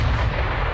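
Artillery cannons fire explosive shells in the RimWorld video game, a dense continuous roar of blasts that fills the short clip loudly and evenly before cutting off abruptly.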